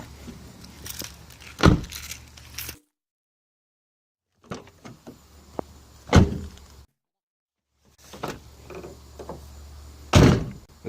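Doors of an Infiniti M56 and two M45 sedans, frameless with windows down, shut one after another: three solid thunks spaced a few seconds apart, each with light rattles and handling noise before it, close up.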